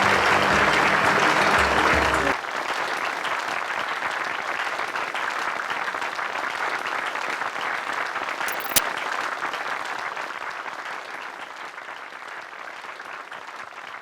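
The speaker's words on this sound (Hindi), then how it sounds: "जोरदार तालियां प्लीज।" Sustained audience applause at a Hindi television show event, beginning under a brief music sting and then continuing as a loud, even wash of many clapping hands with one sharp click partway through.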